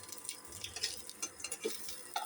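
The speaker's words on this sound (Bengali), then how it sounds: "তেল গরম হয়ে গেছে, প্রথমে শুকনো লঙ্কাটা ফোড়ন দিচ্ছি" Dry red chillies and garlic sizzling in hot oil, a light crackling fizz with quick pops and a few spoon clinks against the pan.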